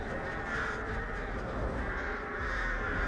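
Crows cawing in the horror game Dead by Daylight, an ambient outdoor game soundscape with the calls steady and moderately distant over a continuous background hum.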